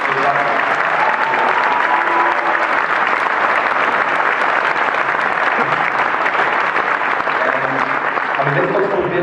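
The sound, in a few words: audience applause at graduation ceremony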